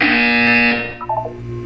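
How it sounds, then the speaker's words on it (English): A loud electronic buzzer from the video game Portal 2 sounds once with a harsh tone, then breaks into a short, choppy electronic warble before fading. "You will hear a buzzer."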